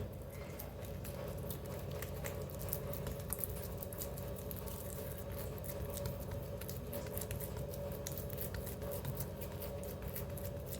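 Soft, quick pats and light slaps repeat in an uneven rhythm, close but quiet, as wet hands press and pat Maharashtrian dhapate flatbread dough flat.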